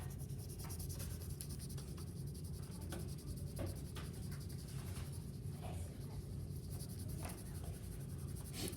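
Pencil or graphite shading strokes rub steadily across paper while a simple cube is drawn, a soft continuous scratchy hiss with faint repeated stroke accents, close and quiet, with no talking.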